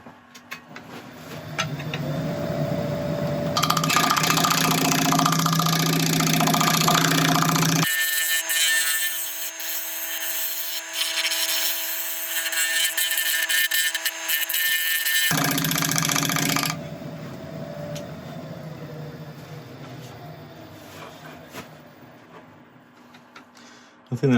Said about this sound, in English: I'll just keep on going backwards and forwards across this until we can get a nice even surface ready for sanding.